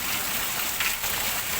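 Heavy rain pours down steadily in a dense, even hiss, close and continuous, with a brief brighter splash partway through and no voices.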